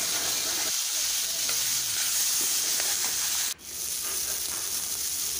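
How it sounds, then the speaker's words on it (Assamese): Tomatoes fry in oil in a pan, a steady close sizzle that runs without a break, with a brief stir or clatter near the start and a short dip later. "এয়া বিলাহী ভাজি ল'লোঁ অলপ প্ৰথমতে।"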